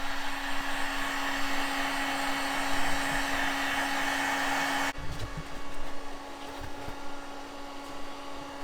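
A heat gun blows hot air onto tight car bumper plastic, a loud, steady whooshing roar that cuts off partway through, leaving quieter handling noises behind.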